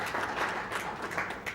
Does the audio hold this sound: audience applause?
yes